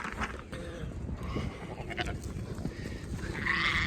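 Sheep bleating on a farm as a flock is led across a field, several overlapping calls mixed with rustling and movement, fairly close and steady.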